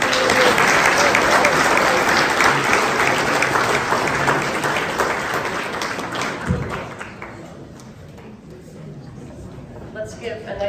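A large crowd at a hall of fame ceremony applauds loudly and steadily, the clapping slowly fading and thinning out toward the end.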